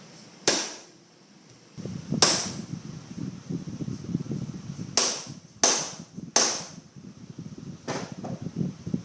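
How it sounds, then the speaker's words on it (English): A hammer strikes a bent metal screen door closer rod several times, sharp ringing clanks spaced a second or so apart over a low background rumble. "you're going to take your hammer and you're going to hit right on the top of that arc"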